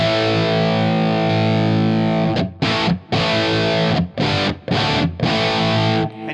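An electric guitar played through an amp on its blue drive setting with the gain fully cranked: a thick distorted chord rings out steadily, then choppy, rhythmic stabs with short clean cuts between them follow, loud and without talk.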